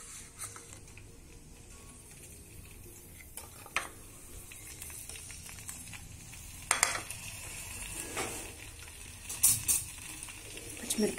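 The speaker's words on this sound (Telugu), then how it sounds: "పచ్చిమిరపకాయలు కొంచెం వేగనిద్దాం. ఇవి కొంచెం వేగాలి." Green chillies fry in oil in a pan for mint tomato chutney, a quiet continuous sizzle with occasional stirring scrapes and clinks of a utensil; a voice speaks at times over the cooking.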